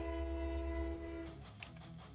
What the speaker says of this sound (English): There's a train, hold on.